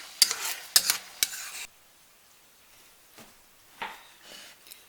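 A pot of Thai shrimp curry (kaeng khua kung) gets a few quick scrapes of a spoon with a faint sizzle, then settles into quiet low bubbling with occasional soft clinks, close by and without talk.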